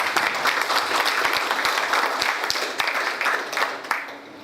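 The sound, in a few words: audience applause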